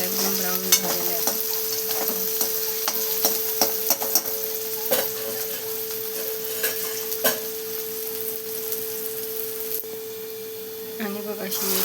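Chopped onion and tomato, cooked until deep brown, sizzle in a pan while a spatula stirs them. Frying hiss continues steadily under repeated scraping strokes and clicks, close and fairly loud, with a faint mechanical hum in the background.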